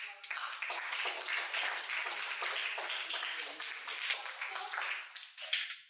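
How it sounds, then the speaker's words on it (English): Audience applause at a Model UN conference at a school, sustained clapping from a crowd with a bright, busy texture that holds for several seconds before thinning out at the end. "Please give a round of applause."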